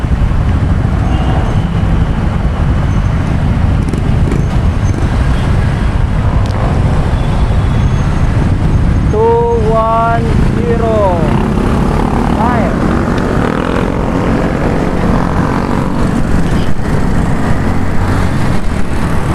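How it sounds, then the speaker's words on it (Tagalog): Dense roadway traffic of many cars and motorcycles rushes past in a continuous loud roar, heard from a moving bicycle amid strong wind noise, with a brief horn or squeal midway and a voice speaking under the din. "Daming motorista, mga motor."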